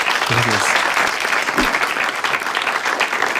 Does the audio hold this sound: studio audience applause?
yes